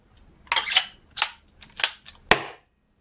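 Airsoft gas grenade shell test-fired, a series of four or five sharp loud cracking pops in quick irregular succession, close up, then silence.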